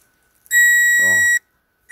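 A Snap-on Power Probe tester's buzzer sounds once, a loud, steady electronic tone for about a second, close up, with a brief murmur of voice underneath.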